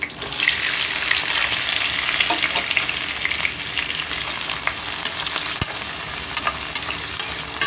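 Dry red chillies, onions and green chillies frying in hot oil for ridge gourd curry, a loud continuous crackling sizzle with scattered pops and a sharp stirring clink, close and without voices.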